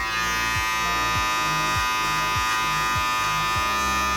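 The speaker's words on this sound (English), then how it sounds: "Listening to that hair being cut. Should be a nice little crisp sound." Electric hair clippers buzz steadily and close up as someone cuts their own hair, a constant motor drone with regular strokes about every half second where the blade dips into the hair, no talking.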